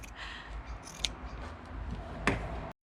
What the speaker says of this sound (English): Got Linda in charge of the scissors